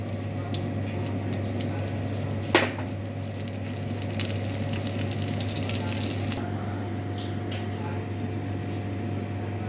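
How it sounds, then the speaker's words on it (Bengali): Bitter gourd frying in oil for a Bengali shukto gives a steady, even hiss over a low hum, with one sharp clack near the start. "এবার উচ্ছেটাকে একটু ভেজে তুলে নেব"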